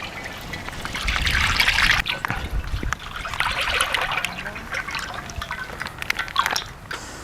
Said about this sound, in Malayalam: ആദ്യം എണ്ണ ഒഴിക്കാം.